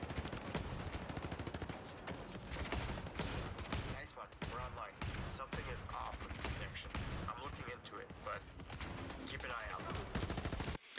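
Rapid gunfire in the video game Den Of Wolves, dense bursts of automatic shots repeating almost continuously and loud, with brief pauses between volleys.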